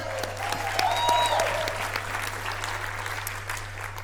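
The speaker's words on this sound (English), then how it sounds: "Let's give Meredith a round of applause." A crowd at a company event applauds steadily, a dense wash of clapping with a few cheers, heard at moderate loudness over a constant low hum.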